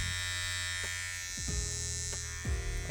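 A Kemei 1971 hair trimmer running with a continuous close electric buzz, fairly quiet and steady, with a few faint clicks or handling taps along the way and no speech.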